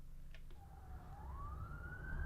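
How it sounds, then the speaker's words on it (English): A siren rises and wails steadily in the distance over low rumbling traffic noise, growing slightly louder toward the end. "Oh, I hear sirens."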